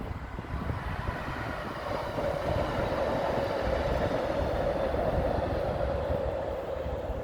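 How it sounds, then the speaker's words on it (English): A train crosses a rail bridge over the Toutle River, heard from a distance as a steady low rumble and rolling roar that holds evenly throughout. "There's a train."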